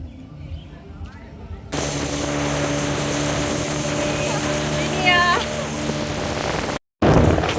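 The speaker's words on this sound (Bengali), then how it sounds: "এই যে বোট চালাচ্ছে, বোট চলছে।" Motorboat at a park lake, a steady droning engine hum that starts abruptly and runs loud and continuous, with people talking over it.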